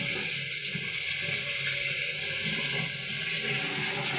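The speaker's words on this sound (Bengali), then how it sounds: "তো এখন আমি এখানে যে এগুলোও ধুয়ে নিচ্ছি।" Running tap water pours steadily into a sink while fish and greens are rinsed beneath it, a loud, continuous close-up splash with no talking.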